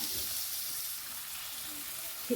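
Chopped onions frying in hot oil in a pan, a soft, steady sizzle at low volume with a brief knock near the end.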